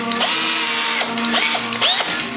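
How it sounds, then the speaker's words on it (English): A power drill drives screws into a wooden board for a 3-inch firework display rack, a loud close whirring with brief pauses and pitch dips as each screw seats. "once you put all these screws in here"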